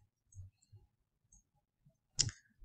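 A single sharp computer mouse click sounds near the end, close and fairly quiet, after a few faint low bumps in near silence.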